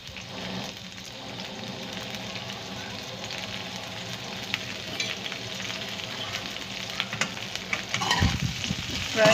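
Okra fries in a little oil in a pan over raised heat, a steady close sizzle with light stirring scrapes, growing busier and louder toward the end as the pan is handled.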